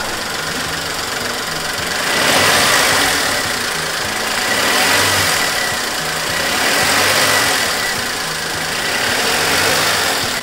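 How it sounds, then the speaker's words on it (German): A car engine runs loud and close, with a rough knocking idle that swells in slow, even revs roughly every two seconds, and no talking. "Gib mal Gas."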